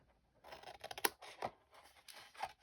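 Scissors snipping through a cardboard pizza box, several close, crisp cuts in uneven bursts with short pauses, fairly quiet overall.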